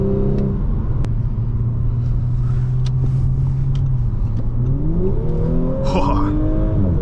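A 2020 Audi S4 3.0T with Quattro accelerates on a test drive, its engine note rising loudly from inside the cabin and climbing through a gear change near the end.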